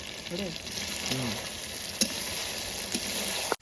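Duck meat fries in a wok at an outdoor picnic on a rainy day, giving off a steady close sizzle with occasional sharp clinks of stirring. A few brief voice sounds come through faintly underneath.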